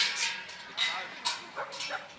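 Sheepdogs bark and yip in short bursts at an outdoor yard dog trial working young merino sheep, mixed with a voice talking nearby.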